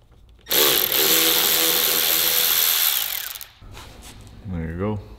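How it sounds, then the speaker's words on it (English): A power driver spins out screws holding a car air filter housing fitted with a number 3 Allen key, giving one sustained whirring burst of about three seconds and then a brief higher-pitched whine. "for my specific, I guess, air filter, we have to take all the Allen keys off, and that's a number 3."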